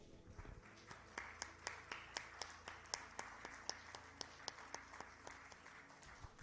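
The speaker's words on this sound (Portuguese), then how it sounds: "Vamos aplaudir o Senhor" A church congregation claps along in a steady, even beat of sharp individual handclaps, quiet and somewhat distant, with a faint low hum underneath and no talking.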